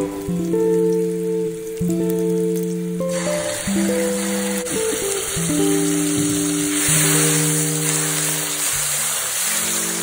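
Ginger slices and a prepared sauce sizzle in hot oil in a pot for a lamb hot pot, a steady crackling hiss that grows brighter once the sauce goes in, under soft background music.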